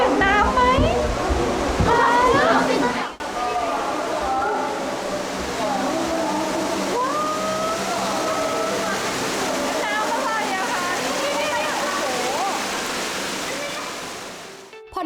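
A steady, even rush of falling water fills the space at teamLab Planets in Tokyo, a digital light waterfall installation, and continues throughout while someone talks over it.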